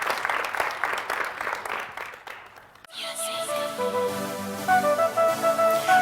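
An audience at a live Valentine's show applauds an artist, a dense patter of clapping that gives way to music starting up.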